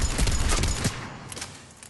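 Mattock rifle fired in Mass Effect 3, a rapid burst of sharp cracking shots in the first second, then a decaying echoing tail as the firing stops.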